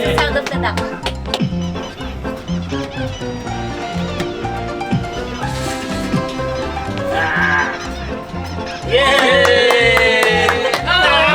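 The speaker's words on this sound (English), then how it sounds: "The sound of the duck." Toy duck prize honks and squawks in a busy, noisy setting, with a louder burst of quacking near the end and background music and chatter.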